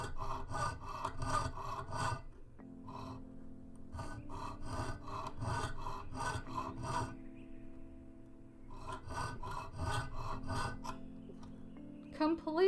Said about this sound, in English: I'm going to keep on sawing.